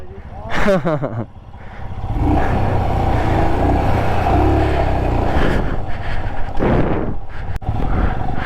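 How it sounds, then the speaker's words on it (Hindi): A JCB excavator engine runs with a steady, loud mechanical roar beside a rough mountain road in Ladakh, heard from close range with people talking over it at times. "जेसीबी चल रहा है।"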